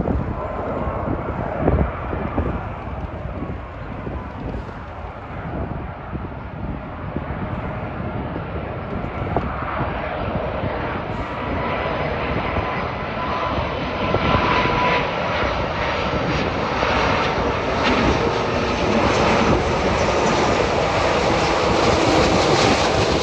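A DHL cargo airplane arriving from Japan flies overhead near Rosedale and Valley Stream, its engine roar loud and steady throughout as it passes, with no talking.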